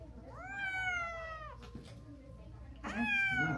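A cat meows loudly twice while getting a flea treatment, long rising-then-falling cries close up with a short gap between them, over steady background noise.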